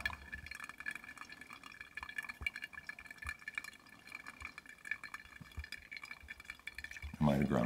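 Pulse pouring of water over finely ground coffee in a flatpack travel pourover filter: faint dripping and trickling throughout, then a short, louder burst of poured water at the very end.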